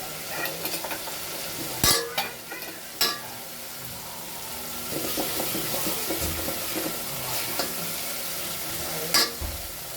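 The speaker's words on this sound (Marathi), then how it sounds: "आता आपण त्याला फोडणी करणार आहे" Spices for a masoor dal tempering sizzle in hot oil, a steady hiss with scattered stirring and clinks of a utensil against the pan, a few sharp knocks standing out, close and without talk.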